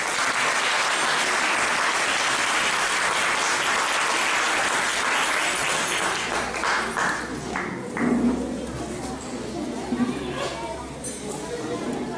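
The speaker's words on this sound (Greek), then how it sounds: "Απλά χειροκροτήστε τα." Audience applause at a Christmas celebration: dense, loud clapping at first that thins out and fades, with voices and chatter rising beneath it toward the end.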